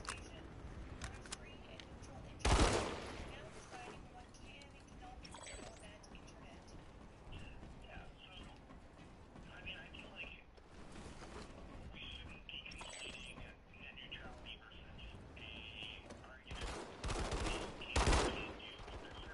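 Gunfire in the PS4 game Planetside 2 comes in scattered shots and short bursts, with a few louder blasts standing out over quieter background noise and in-game voices.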